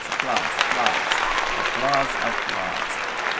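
Applause during a live show production, with a voice talking over it and brief tonal sounds woven through the steady clapping.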